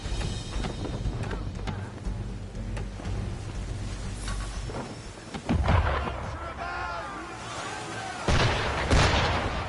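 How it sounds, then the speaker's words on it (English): Ship cannons firing in the video game Assassin's Creed III, with heavy booms rolling out over a rumbling background and the loudest blasts landing near the end. "Why is he shooting at us?"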